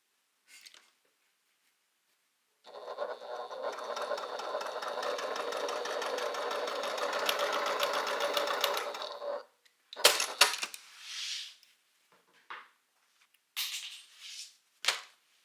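A sewing machine runs a quick seam on a bag for several seconds, a close, even mechanical whir, followed by scattered fabric handling clatter.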